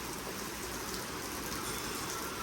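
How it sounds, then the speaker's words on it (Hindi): Heavy rain pours down steadily in a village courtyard, a dense continuous hiss of drops heard at a distance, fairly faint and unbroken, with no voices. "और ये बहुत ही तेज आते हुए बारिश"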